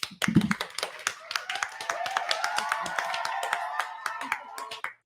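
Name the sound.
round of applause from audience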